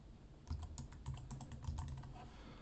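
Rapid typing on a computer keyboard while entering a code comment, a steady run of light clicking keystrokes close by, with a few slightly heavier taps mixed in.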